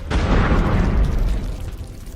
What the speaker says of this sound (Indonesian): memerintahkan untuk melakukan tembakan menggunakan gerobak meriam